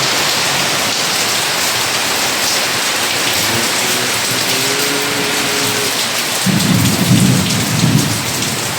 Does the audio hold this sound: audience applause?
no